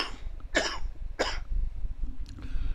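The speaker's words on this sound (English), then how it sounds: "Sorry about that, I've got a little coughing fit going along now." A person coughs in two sharp bursts, close and loud, followed by a softer throat-clearing noise, with no talking over it.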